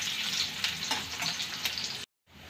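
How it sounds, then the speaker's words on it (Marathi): Chopped onion sautés in a pan with a bright, even sizzle and light crackling that cuts out abruptly for a moment near the end before resuming. "याला आपल्याला जास्त फ्राय नाही करायचा आहे, फक्त त्याचा सॉफ्ट होईपर्यंतच आपल्याला परतून घ्यायचा आहे"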